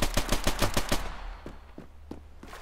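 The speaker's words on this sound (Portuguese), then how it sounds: "a gente deu alguns tiros só pra dizer que a gente acertou algumas balas" A fast burst of automatic gunfire in the video game Standoff 2, about eight sharp shots in quick succession, followed by a few slower scattered shots.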